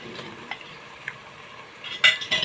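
Yogurt being mixed into raw chicken for biryani: quiet wet stirring with a few soft taps, then louder clinks of a spoon against the bowl near the end, no one talking.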